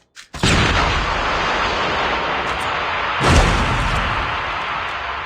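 Grenade explosion in COD Mobile deathmatch gameplay: a sharp onset opens a sustained roaring blast, with a second heavy boom swelling midway before the noise slowly eases off.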